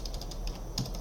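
Light, quick keystrokes on a computer keyboard tap in an irregular run, faint and close, with no voices.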